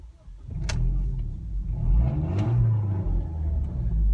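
A rusty old car's engine idles and revs through an exhaust with a hole in it, giving a deep, loud, close tractor-like rumble that swells and holds, with a couple of sharp clicks over it and no talk.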